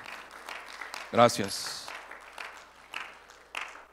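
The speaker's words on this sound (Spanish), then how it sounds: "Dele un fuerte aplauso al Señor." A church congregation applauds, a short burst of clapping that rises suddenly and then fades as someone speaks briefly over it.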